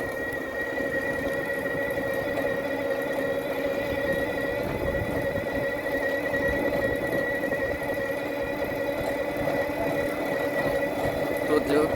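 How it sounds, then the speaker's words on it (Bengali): An auto van engine runs steadily with a mechanical whine and rattle, a continuous motor drone that never lets up. "আমি অটো ভ্যানে করে যাচ্ছি"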